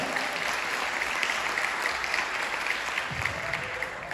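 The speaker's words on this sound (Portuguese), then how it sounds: "Aplauda ao Senhor Jesus" A church congregation claps steadily and densely throughout, an even wash of applause from many hands with no speech over it.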